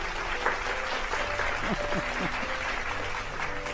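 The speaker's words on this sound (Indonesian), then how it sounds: "Tepuk tangan untuk rekor Indonesia ini." Sustained applause from a studio audience on an Indonesian talk show, honoring a national record, with dense steady clapping throughout and faint voices mixed underneath.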